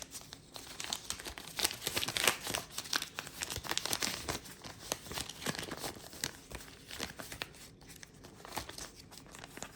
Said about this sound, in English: I'll fold my bills together